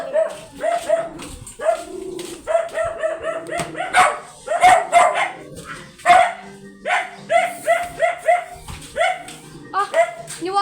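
A dog barks in quick, repeated bursts close by, with yips and a brief whimper mixed in, and the barking keeps up in an uneven rhythm throughout.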